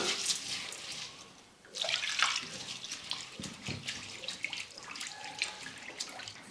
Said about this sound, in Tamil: இப்போ தண்ணி சேர்த்துட்டு ஒரு ரெண்டு மூணு முறை நல்லா அலசி எடுத்துக்கலாம்